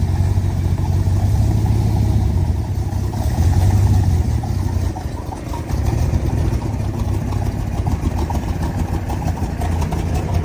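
A 1964 Chevrolet Corvette with a 327 V8 and four-speed idles after a cold start, a loud, steady, rumbling low-pitched idle that stays close and continuous, with small rises in pitch along the way.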